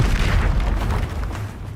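A Bombarda spell in Hogwarts Legacy sets off a deep, booming explosion that rumbles loudly and evenly for nearly two seconds, then tails off slightly.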